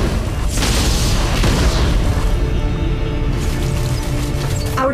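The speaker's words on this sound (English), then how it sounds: "Your tower has been destroyed." A tower collapses in the Arena of Valor game with a heavy booming explosion, a loud rumbling crash that spreads out and then fades into a softer hiss.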